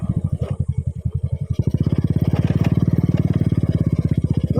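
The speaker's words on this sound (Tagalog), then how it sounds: "Makalampag na yung motor." A motorcycle engine rattles loudly up close while riding along a mountain road, its rapid, even chugging pulses speeding up into a steady, hard throb.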